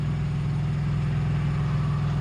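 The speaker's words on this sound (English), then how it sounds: "I don't know if that's a train or if it's just the engines" Union Pacific diesel locomotive engines idling trackside, a steady low rumble with throbbing harmonic drone, continuous and moderately loud with no talk.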